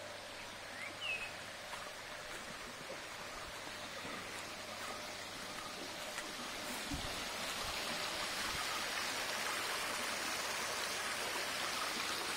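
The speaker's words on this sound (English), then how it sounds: "flowing water" A stream flows steadily at a brookside spot beside a pond in Lakkidi, Wayanad, a continuous soft rushing of water with no voices.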